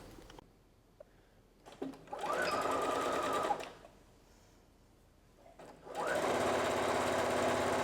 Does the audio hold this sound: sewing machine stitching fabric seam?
yes